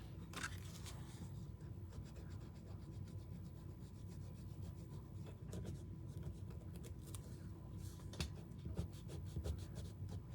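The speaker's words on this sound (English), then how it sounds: "Get my glue eraser out." A glue eraser is rubbed back and forth across a handmade greeting card, giving a steady, close rubbing scrape that runs continuously with a few sharper strokes and no talking.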